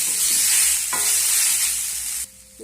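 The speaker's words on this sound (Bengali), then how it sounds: "লবণ আর হলুদ দেওয়ার পর আমি সবজিগুলোকে আবারও নেড়ে চেড়ে নেব" Vegetables with turmeric powder and salt are stirred in a hot pan, with a strong sizzle and scraping strokes that cut off abruptly near the end, leaving a quieter tail.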